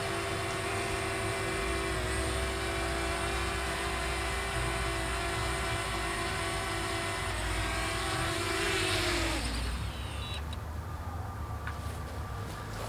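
Small DJI Mavic Mini drone hovering and descending to land, a steady high-pitched propeller whine that drops and fades near the end, heard alone with outdoor background noise.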